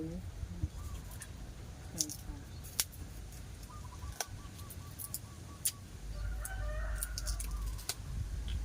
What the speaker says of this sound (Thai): มันเป็นไก่